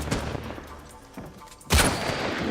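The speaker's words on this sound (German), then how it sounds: "Das war ein Headshot." Gunfire in the video game Uncharted 4: scattered shots crack out, with a louder sharp blast near the end followed by lingering noise.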